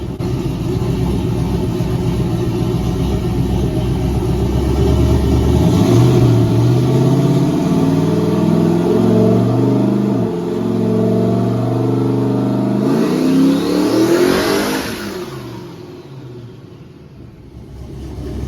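No-prep S10 truck engine on a dyno during a second gear pull, a loud steady idle that swells into a long rising rev, drops briefly, then climbs again before cutting off near the end, no talking.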